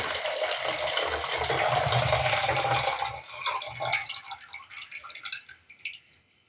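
Water pours steadily into a measuring jug for a few seconds, then trickles and drips as the flow slows and stops.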